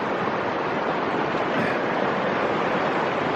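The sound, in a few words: flowing creek water, Shingle Creek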